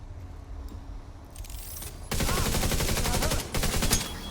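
Rapid gunfire from The Division 2, starting as a low rumble and then erupting into a loud, dense burst of automatic fire with a few sharp peaks; no voices.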